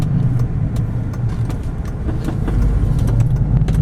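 A 2005 Ford Escape Hybrid on a test drive, heard as a steady loud interior road rumble and low engine drone with light tyre noise, no talking.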